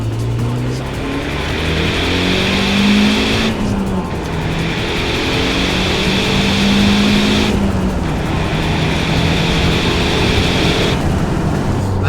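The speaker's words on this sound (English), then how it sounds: "Rally car enters the building." Mazda 323 GTR 4WD turbo rally car driving, a steady loud engine drone with shifting pitch, gear changes and tire noise throughout, with occasional voices underneath.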